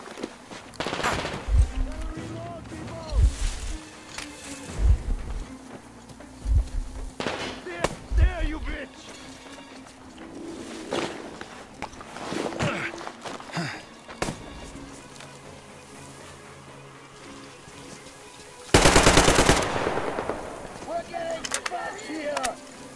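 Enemy gunfire in the video game Metro Exodus: sharp shots burst out irregularly through the clip, with a loud, dense blast near the end, while someone talks over the action.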